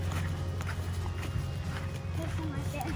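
A horse walks on a farm, its hooves clip-clopping in a slow rhythm close by, over a steady low hum and with people talking.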